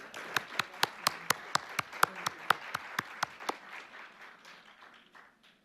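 A single pair of hands claps about a dozen sharp, evenly spaced times at an academic law seminar, close and crisp, followed by fainter scattered applause that fades out.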